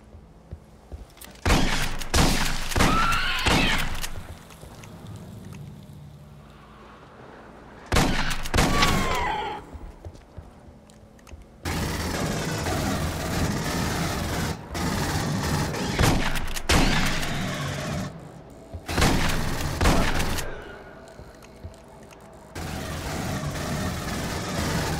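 Heavy automatic gunfire from marines' weapons in the Aliens: Colonial Marines video game, loud sustained bursts broken by short pauses, growing denser and more continuous in the second half.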